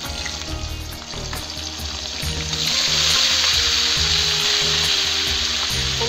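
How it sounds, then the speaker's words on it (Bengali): Cauliflower pieces go into hot oil left from frying potatoes for aloo fulkopir dalna. The close sizzle grows sharply louder partway through and keeps a steady, bubbling hiss. "এই তেলে ফুলকপি দিয়ে দেবো।"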